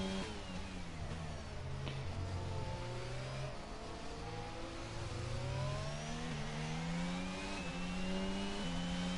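Several Ferrari race car engines in a racing video game scream continuously at high revs on a street circuit in Baku, their pitches rising and falling through gear changes, with overlapping cars close by.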